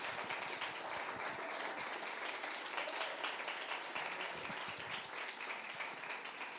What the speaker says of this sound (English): If we can get a round of applause to our panelists.